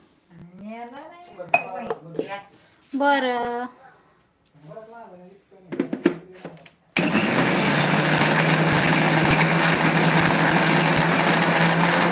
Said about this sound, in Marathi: मी मिक्सरला आता करते